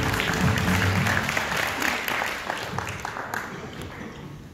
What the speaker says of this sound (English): A warm applause for Ramanathan Failingham and Satoshi Tsutsi